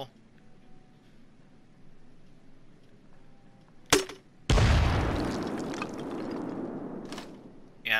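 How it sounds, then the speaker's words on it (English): An M79 grenade launcher in Payday 2 fires with a sharp crack, then a loud, close explosion roars and slowly rolls off over several seconds, with a second short burst near the end. "that's a huge explosion"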